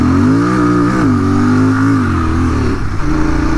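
A Royal Enfield GT650 twin-cylinder motorcycle revs hard and loud up close as its rear wheel spins on dirt, the engine note rising and dipping before settling into rougher bursts.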